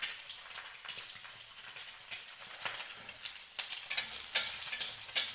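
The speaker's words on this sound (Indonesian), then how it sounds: "Dan tunggu hingga telur yang dalam wajan tersebut menjadi masak." An egg frying in a hot wok while nasi goreng is being made gives a steady, close crackling sizzle with scattered sharper pops that build toward the end, and no talk is heard.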